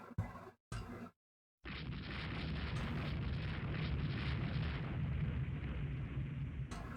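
Naval gunfire and shell hits in the warship strategy game Rule the Waves 2, starting with a few short thuds, then a brief silence and a sustained roaring rumble of explosions that holds steady at a distance.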